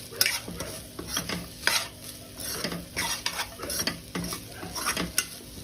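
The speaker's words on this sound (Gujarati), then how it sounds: "હવે આપણે કેપ્સિકમ મરચાં એડ કરી દઈશું। અને સરસ રીતે આપણે મિક્સ કરી દઈશું।" Capsicum and chillies are stirred in a hot pan for a veg paneer frankie filling, giving close, repeated scraping strokes over a steady sizzle, with no talking.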